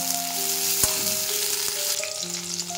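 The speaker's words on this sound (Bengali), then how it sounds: "এটাকে কিন্তু একটু কম আঁচে ভাজতে হবে" Flat beans fry gently over a low flame, giving a continuous close sizzle with a couple of sharp spatula knocks against the pan as they are stirred.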